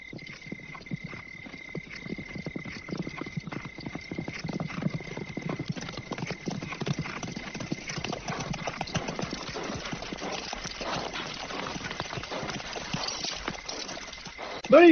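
Hundreds of horses of a mounted army gallop in a 1976 film battle scene, a dense, steady clatter of hoofbeats that rolls on without a break for the whole stretch at a fairly even loudness.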